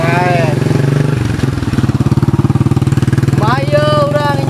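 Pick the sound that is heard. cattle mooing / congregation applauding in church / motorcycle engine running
motorcycle engine running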